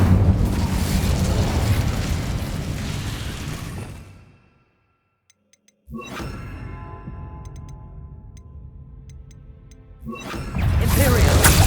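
Incendio fire spell cast in the Hogwarts Legacy video game: a loud roaring burst that fades into near silence, then a second swelling, ringing blast with faint chimes, and a final loud surge near the end.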